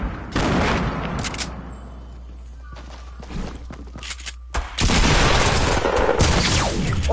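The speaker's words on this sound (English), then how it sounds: "Oh shit. Grenades." Grenade explosions and gunfire in a shooter video game, loud bursts of blasts and shots with footsteps in quieter moments between them, ending in a dense, sustained barrage.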